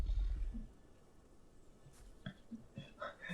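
A large dinosaur's roar call in the video game Path of Titans, a few throaty bursts that are moderately loud, with a heavy low rumble at the start and shorter grunting pulses near the end.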